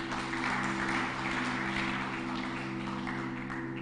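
Church congregation clapping during a Sunday service, a soft, steady wash of applause heard faintly at a distance over a constant low electrical hum.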